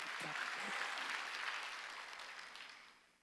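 A church congregation at a Wednesday worship service claps steadily for a few seconds, the applause fading toward the end, with a brief voice at the start.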